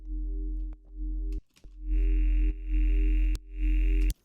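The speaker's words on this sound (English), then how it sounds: "The goal of this is to be a very loud, very fun distortion plugin." Loud synth notes start and stop in short bursts, turning harsh and buzzy with gritty distorted overtones from a distortion plugin in the later bursts.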